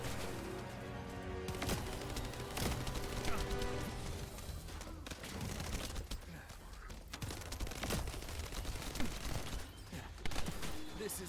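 Rapid, sustained gunfire from an assault turret in the shooter game The First Descendant, with dense bursts and booms layered over game music and effects throughout.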